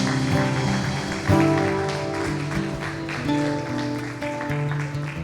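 A church congregation at a worship service applauds in a dense, continuous patter, mixed with sustained music-like tones in the background.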